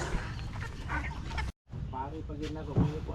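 Chickens cluck and chatter nearby amid background voices and outdoor noise, with a brief dropout in the middle.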